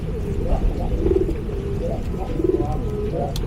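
Pigeons coo nearby in low, repeated rolling calls at a loft, several rounds overlapping against steady background noise.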